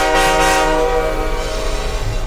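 A speeding train blasts its horn close and loud, a steady harmonic wail held over the rumble of the train racing along the tracks, with no one talking.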